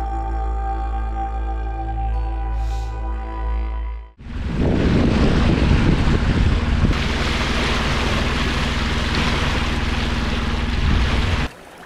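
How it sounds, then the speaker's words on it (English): Steady wind roars across a sailing boat at sea in the tropics off Cape York, Australia. The first part is a low tonal drone, then broadband wind and water rush surges in and holds loud and constant until it cuts off near the end. "But the wind's come back"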